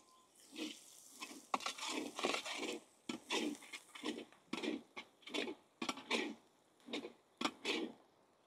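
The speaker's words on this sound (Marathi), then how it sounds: "हळद टाकून घेऊ, काश्मीरी लाल मिर्च पावडर व्यवस्थित परतून घेऊ।" Onion thecha masala with turmeric and Kashmiri red chilli powder being stirred and sautéed in a pan, a steady series of close spoon scrapes and clatters in short rhythmic strokes, with no talk.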